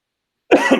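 A single short, sharp cough from someone with a summer cold, right up close after a moment of silence, with a quick second burst, during a business meeting.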